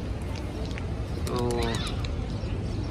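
Pigeons at Masjidil Haram in Mecca coo and flutter amid a dense outdoor crowd, with people talking nearby and a brief chirpy burst in the middle.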